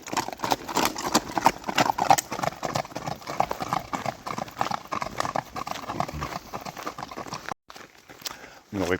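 Horse hooves clop in a quick, regular rhythm on a paved road, loud and close, with a brief gap near the end.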